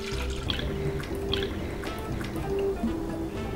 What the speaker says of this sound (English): And now we'll prepare about a container full of milk, and I'm going to pour it into